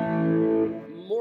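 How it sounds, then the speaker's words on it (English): A clean, lightly driven electric guitar note through a Klein-style clone pedal and a Marshall 59 amp simulation on a Zoom multi-stomp with a TC Electronic tube pilot, ringing with rich harmonics that fade, then a brief new attack. "I'm using a Marshall 59 sound on the Zoom multi-stomp with a TC Electronic tube pilot."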